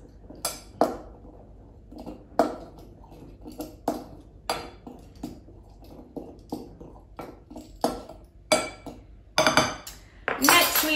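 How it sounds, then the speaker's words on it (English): A utensil mixes cocoa powder in a bowl, producing repeated sharp clinks and scrapes against the bowl at an uneven rhythm, close and moderately loud, with a faint rattle toward the end. "I'm gonna go ahead and start mixing that because cocoa powder always makes a big mess"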